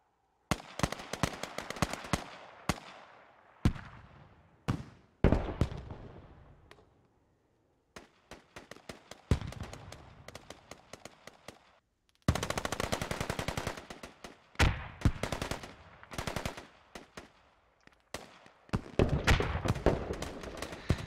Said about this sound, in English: Taking RPG fire, grenade fire